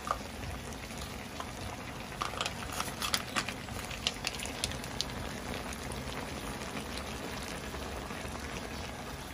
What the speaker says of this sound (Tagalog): Kumukulo na uli siya at haluin lang ulit natin.